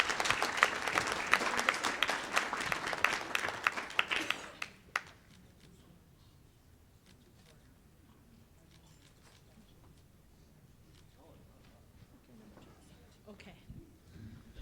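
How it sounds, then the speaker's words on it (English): Audience applause for two speakers at a tribal leaders' economic summit, a dense burst of clapping in a hall lasting about four and a half seconds before fading to quiet room tone with scattered faint sounds. "give a round of applause to our two speakers"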